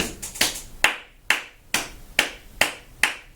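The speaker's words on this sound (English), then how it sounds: "Can you clap a pulse?" A single person claps a steady medium-fast pulse, sharp dry claps spaced evenly about every half second, close and alone with no talk.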